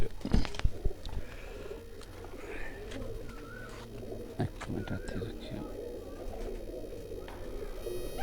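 English white pigeons coo softly in a loft, low murmuring calls repeating through steady background noise, with a few sharp knocks and faint human voices around.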